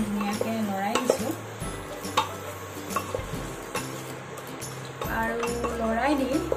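Marinated chicken is stirred in a pressure cooker for biriyani, a spoon scraping and clinking against the metal pot amid a soft sizzle, with steady repeated strokes close by and a low background hum.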